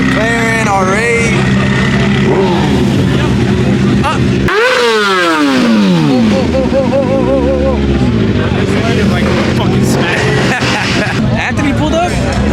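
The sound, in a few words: supercars (McLaren, Audi R8) revving engines at car meet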